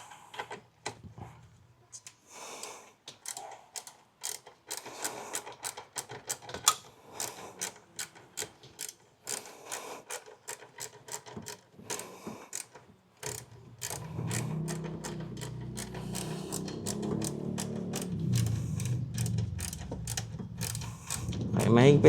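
A ratchet tightens the fuel filter on a Nissan Navara, giving close, rapid runs of sharp clicks. A lower rumble of work noise and some talk join in during the latter half.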